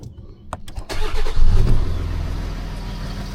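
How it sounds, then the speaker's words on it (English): A Ford Ranger Wildtrak's engine cranks with a few clicks, then catches and settles into a steady, close idle. "let's just start the car then and do a test run"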